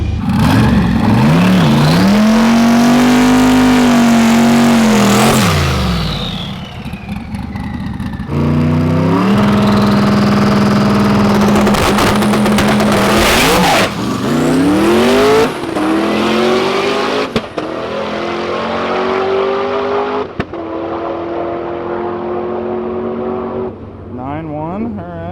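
Race car Leroy running on a test day, its engine revving and droning loudly through repeated rises and falls in pitch, with speech over much of it.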